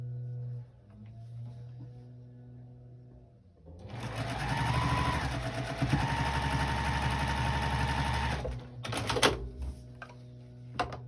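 A sewing machine stitches a wonky star quilt block, starting after a quiet hum and running as a steady, close, rapid mechanical whir for about five seconds before stopping with a few clicks.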